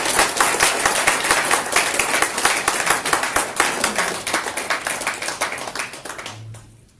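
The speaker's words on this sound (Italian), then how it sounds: "Un applauso per Diego Ferrara" An audience at a talk applauds philosopher Diego Fusaro: loud, dense clapping from many hands that carries on steadily, then thins and fades away near the end.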